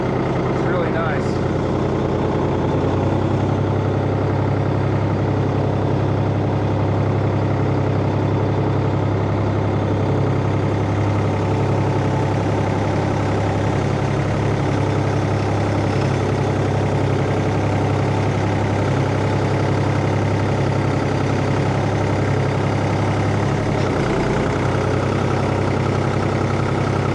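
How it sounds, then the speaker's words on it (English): A Vermeer Rebel 5410 engine idling steadily with a low, even rumble throughout, close and continuous, with occasional talk over it. "Clutch this and shift it while you're driving it."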